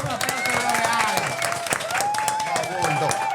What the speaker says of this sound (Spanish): ustedes saben que él es menor 30 y necesita un aplauso. Un aplauso de los reales.